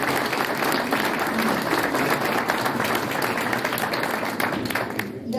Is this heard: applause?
yes